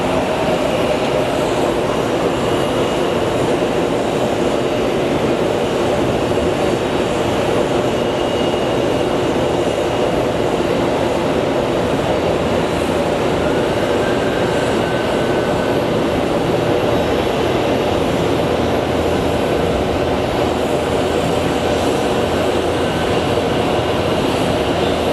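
Southwest airliner, flight 1350 from Burbank, at Phoenix Sky Harbor Airport, giving a loud, steady jet engine roar that holds at constant strength for the whole stretch with no voices.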